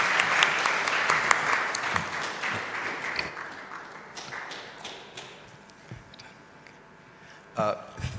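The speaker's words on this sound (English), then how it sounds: "request that you give them a round of applause" An audience applauds the panelists at an insolvency conference. Dense clapping is loud at first, then thins and fades after a few seconds into scattered claps and a thump or two.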